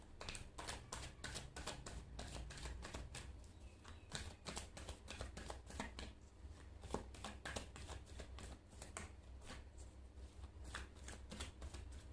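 Oracle and tarot cards handled during a Thai fortune-telling reading, giving a steady run of soft card shuffles and flicks that carry on close-up throughout, with no talk over them.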